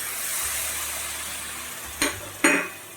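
Tomato puree goes into spices frying in a pan for egg curry, setting off a steady sizzle with two sharp bursts of hissing and clinking as it is added and stirred.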